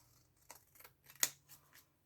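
A few quiet snips of scissors cutting paper for card making in a silent room, spaced unevenly, with one sharper, louder cut in the middle.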